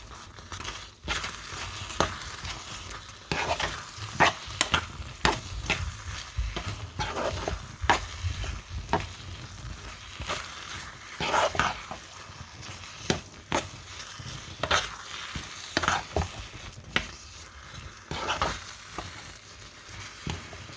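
Grated coconut goes into a pan of cooking jaggery for modakam filling and is stirred, giving a soft continuous sizzle with repeated scraping and crunchy stirring strokes, close and fairly quiet.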